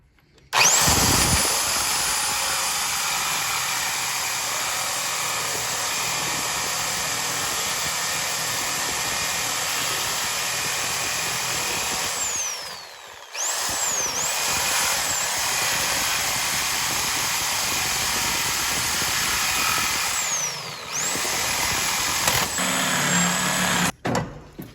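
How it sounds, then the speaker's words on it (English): A Sawzall reciprocating saw cuts through a strut bracket on a Nissan Maxima, giving a steady buzzing rasp with a high whine that runs for about twenty seconds, broken by two short pauses. "I'm going to show you how you most likely can do it with a Sawzall."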